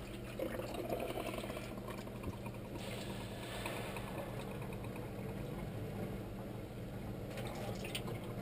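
Water drains out of a Phosban reactor with a continuous faint trickling and gurgling wash that runs steadily throughout, with no voices.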